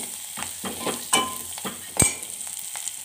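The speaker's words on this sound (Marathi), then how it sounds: "याच्यामध्येच मी सांबार ॲड केला तेलामध्ये, म्हणजे तो तळून घ्यायचा व्यवस्थित" Sambar masala frying in hot oil in a pan, with a steady close sizzle broken by several sharp stirring scrapes and taps of a spoon.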